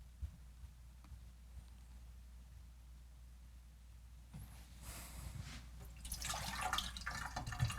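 Water poured into flat, stale beer to bring a caffenol developer mix up to 500 millilitres, a soft trickle and splashing that swells over the last few seconds after a quiet start, with no talking.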